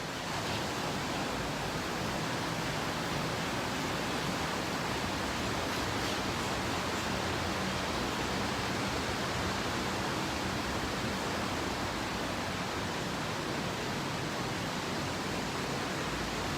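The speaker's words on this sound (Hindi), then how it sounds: "It's very heavy rain here." Very heavy rain falls steadily on a solar-panel roof, a dense, unbroken roar of broadband hiss that stays constant and loud throughout, with no voices.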